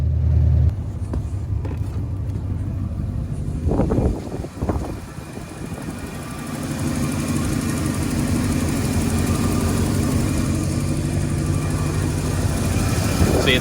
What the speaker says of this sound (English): See, it's got that tick that I was talking about earlier, but it's idling right where it should be.